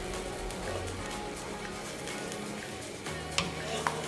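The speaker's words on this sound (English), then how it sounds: "we're just gonna cook the coconut milk down a little bit" Coconut milk for a Thai green curry simmering and reducing in a pan, a steady close sizzle with gentle stirring and a couple of light utensil taps, no talking.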